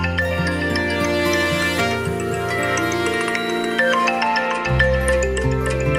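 A mobile phone rings with a loud, continuous musical ringtone, a melodic tune playing steadily with no talk over it.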